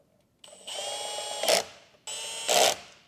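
Power driver whirring twice to fasten screws attaching a battery handle, each burst lasting over a second and ending in a louder ratcheting grind as the screw seats, close and clear with silence around.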